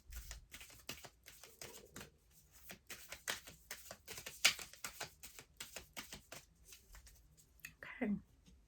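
Tarot cards shuffled by hand in a quiet room, a dense run of quick papery riffles and flicks that keeps going, with a few sharper snaps standing out near the end and no talking over it.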